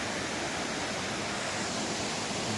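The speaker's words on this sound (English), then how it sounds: "This is the Heart waterfall." The Heart waterfall in the Canyon of Waterfalls in Bulgaria's Rhodope Mountains pours in a dense, steady roar of rushing water, loud and unbroken throughout with no voices.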